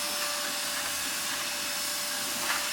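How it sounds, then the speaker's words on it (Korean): A vacuum cleaner runs steadily aboard a Trans-Siberian train, a constant whining hiss with a thin tonal hum, heard close and alone without voices. "진공 청소기로 청소를 해줘요."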